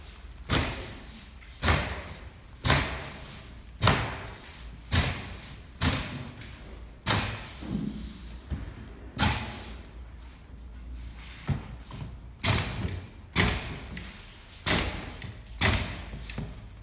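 Staple gun sealing a cardboard shipping box in a warehouse, with a dozen or so sharp thumps at a steady pace, each followed by a short rattle, close and loud, no talk.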